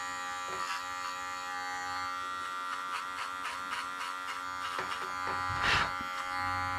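Electric clippers buzz steadily through a full shave-down groom of a Labradoodle, a close, continuous motor drone that rises briefly in pitch and loudness near the end as the blades work through the coat.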